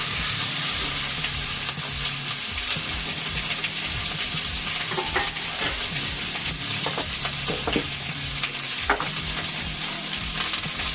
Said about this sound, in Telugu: ఉల్లిపాయలు వేసుకున్నాము